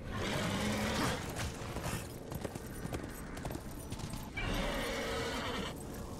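A horse whinnies loudly in the action video game Darksiders, a shrill neigh opening the clip over busy game music and effects, with another burst of noisy activity near the end.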